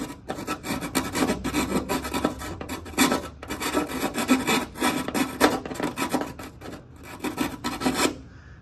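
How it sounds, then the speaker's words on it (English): Small file trimming rubber trim during a front bumper and hood installation on a 2024+ Ford Mustang, giving a close, repeated rasping scrape in quick back-and-forth strokes with short gaps. "So we got like a little file, and we're gonna trim down the inside a little bit"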